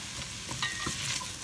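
Food sizzles softly in a pan as it is sautéed for a leftovers pasta dish, a faint steady fry with scattered stirring scrapes and small clicks close by.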